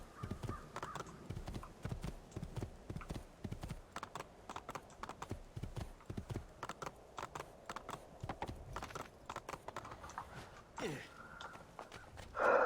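Rapid horse hoofbeats in the video game Assassin's Creed II clip-clop steadily in the foreground, a quick, continuous patter with occasional louder bursts and a brief swell near the end.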